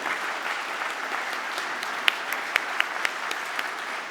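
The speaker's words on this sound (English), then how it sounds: "Give them all a big round of applause." Applause rolls through the audience at a science awards ceremony, steady full-room clapping with a handful of sharper, closer claps standing out near the middle.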